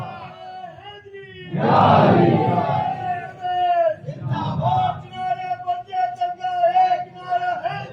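A large crowd at a religious gathering roars a loud unified chanted response, swelling into a massive shout and then a second shorter burst, with music and voices continuing underneath.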